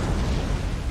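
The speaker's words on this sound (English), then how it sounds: "And you saw that big explosion right there." Torpedo hits exploding against a heavy cruiser in the naval video game War on the Sea, a loud, deep, continuous rumbling boom that fills the whole moment without talk.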